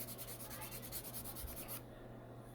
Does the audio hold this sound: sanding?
yes